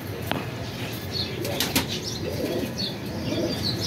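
Chapra and Dabaz fancy pigeons flap their wings in a series of quick, close bursts over a steady background hiss, with no talking.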